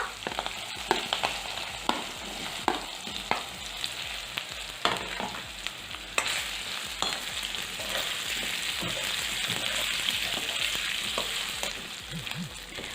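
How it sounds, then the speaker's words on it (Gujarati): Potato pieces, torn curry leaves, chopped chilli and a pinch of asafoetida fry in hot oil for a Kathiyawadi onion-potato curry, a constant close sizzle punctuated by sharp clicks and scrapes as the pan is stirred. "અને આવી રીતે થોડુંક મિક્સ કરીને બટેકાને આપણે એમને તેલમાં ચડવા દઈશું"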